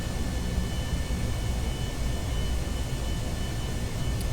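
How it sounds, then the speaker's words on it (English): Aircraft engine throttling up on a runway in Kerbal Space Program, a loud steady broadband roar with a faint whine, continuous throughout. "We are throttling up."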